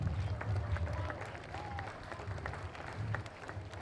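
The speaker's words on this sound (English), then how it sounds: "Ladies and gentlemen, a lap of honour and a nice round of applause for our gentleman Jack" Crowd applause at an outdoor horse show arena during a lap of honour, faint and distant clapping spread across the stands with a low rumble of ambient noise and hoofbeat-like thuds underneath.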